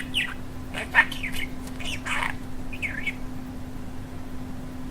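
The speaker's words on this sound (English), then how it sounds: "That was pretty interesting how he chirped that out" Short, bright bird chirps come in a few quick bursts over a steady low electrical hum, with a fairly quiet background between calls.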